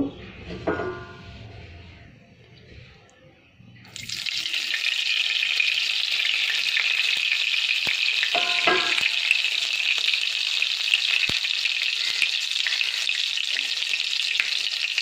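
Chicken frying in oil in a wok, a loud steady sizzle that bursts in suddenly after a few quiet seconds of clatter and keeps going unbroken, with brief stirring scrapes partway through.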